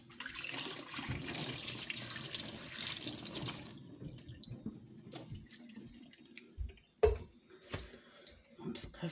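Water runs from a tap over grapes in a container for homemade juice, a close, steady splashing flow that cuts off partway, followed by a few faint clinks and drips.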